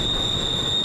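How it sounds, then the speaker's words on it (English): A CSX freight train with container and double-stack cars and UPS trailers on spine cars rolls past close by, with a steady loud rumble and a sustained high wheel squeal. "This is one of CSX's big afternoon trains."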